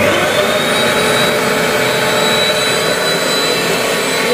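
A sofa and carpet cleaning machine running steadily, a loud continuous motor whine and airy suction roar close by, holding constant throughout with no pauses.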